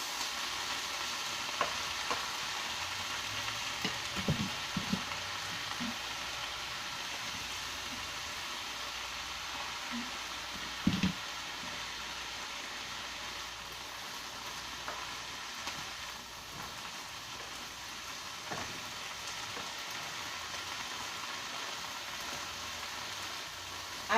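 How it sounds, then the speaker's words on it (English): Collard greens sautéing in a pan give a steady, quiet sizzle and crackle, with occasional soft stirring clatters and faint background hiss, and no one talking. "the more I saute the greens, the more room I have for more greens"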